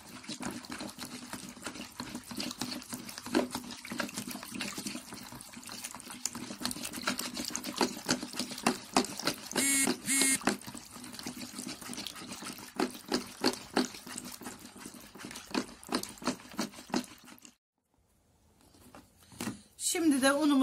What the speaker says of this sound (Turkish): Güzelce çırpalım.